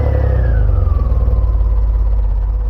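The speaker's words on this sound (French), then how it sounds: "La doublure son est tout bonnement le V8 d'une Porsche 928." A DeLorean DMC-12 whose weak stock V6 is overdubbed with the V8 of a Porsche 928: a loud, close, continuous engine roar with a tone that gradually drops in pitch as it runs.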